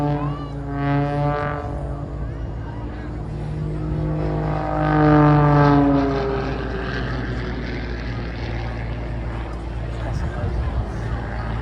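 Jet aircraft with two engines performing maneuvers at the Blackpool Airshow, a loud sustained roar with rising and falling tonal whine that swells midway, while a commentator talks throughout.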